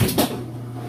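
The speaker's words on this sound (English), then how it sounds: "Lid switch works." A Kenmore washer lid shuts with a quick double clunk close by, then a low steady hum carries on.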